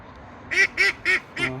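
Four loud, nasal duck quacks in quick succession, close by, standing out over a quiet background.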